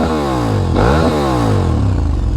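A loud KTM 1290 Super Adventure motorcycle engine running close by, revving with a rising and falling pitch and a rough, throaty drone throughout.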